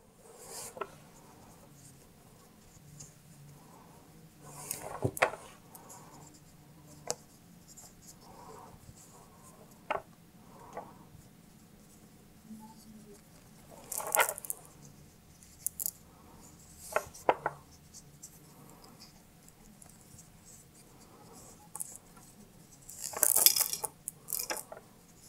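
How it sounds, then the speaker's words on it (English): Soft rubbing and handling of recycled material strands being braided into a choker, with faint intermittent scrapes and light clicks of beads at close range over quiet background, and no talking. "And now I start braiding."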